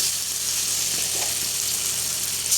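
Chili paste sizzling steadily in a pan with softened tomatoes while cooking mee goreng mamak style, a continuous close frying hiss with no voices.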